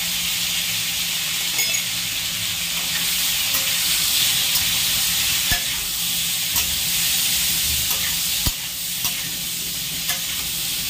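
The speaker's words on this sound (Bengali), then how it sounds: "পটলগুলো লাল লাল করে ভেজে দেবো বন্ধুরা" Pointed gourd (potol) with salt and turmeric frying in a pan: a loud, steady sizzle and hiss throughout, broken by a few sharp clicks of stirring against the pan.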